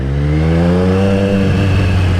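A 2020 Triumph Street Triple RS fitted with an SC Project S1 exhaust revs loudly and close, its engine note climbing and then easing back in a single sustained blip.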